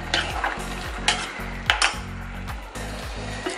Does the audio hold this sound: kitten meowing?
no